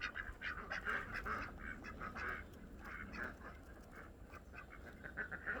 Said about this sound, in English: Them are our two new ducks.